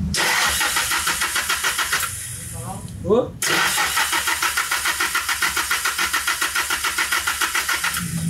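A Nissan Silvia S14 with an SR20DET engine and a new turbo fitted: a short cranking whir, then the engine catches and settles into a steady, rhythmic, pulsing idle close by, with someone talking throughout.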